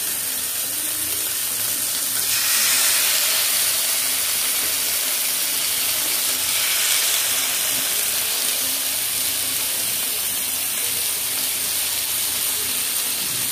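Kebabs on a butter-brushed tawa over a medium flame give off a steady, close sizzle that holds at an even level, a constant bed of frying hiss.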